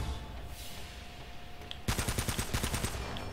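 Video game gunfire from Uncharted: Drake's Fortune, quiet at first, then a loud rapid burst of repeated shots with a steady rhythm filling the second half, close and sharp.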